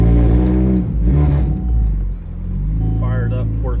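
A car engine on a stock or standalone ECU fires up with a loud, close rumble that surges and then settles toward a steady idle, with a few brief higher-pitched squeaks near the end.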